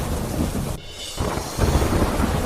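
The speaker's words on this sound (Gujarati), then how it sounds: "અમરેલીના લાઠી શહેર અને ગ્રામ્ય વિસ્તારમાં મુશળધાર વરસાદ વરસ્યો" Heavy monsoon rain pours down over Lathi town and its surrounding villages in Amreli, a dense, steady roar with deep rumbling thunder rolling underneath and a brief dip in the downpour partway through.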